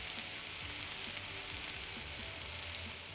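Eggplant slices fry in oil in a pan for begun bhaja, giving a steady, close, dense sizzling hiss that holds evenly throughout with faint crackles and no voices.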